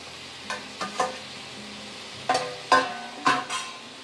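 Onion, tomato, beetroot and carrot go into melted butter in a pan, giving a faint sizzle and a few short scrapes and taps from stirring, close and quiet.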